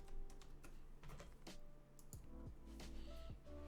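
Quick, uneven clacking of keys on a computer keyboard as a search term is entered, close and fairly quiet, with no talking.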